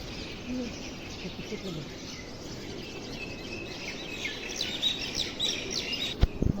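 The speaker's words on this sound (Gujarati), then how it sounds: "પોપટ પોપટ પોપટ" Chirpy bird calls, parrot-like, ring out repeatedly over a steady background hiss, growing a bit busier and louder toward the end.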